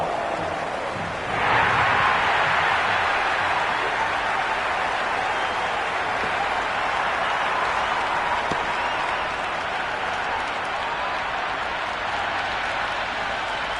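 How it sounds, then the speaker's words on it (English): Cricket crowd at a T20 World Cup match between Australia and Zimbabwe, cheering and applauding as a loud, dense wash of noise that swells at about the second mark and holds steady throughout. "the crowd have joined the party. It's pretty noisy at the ground."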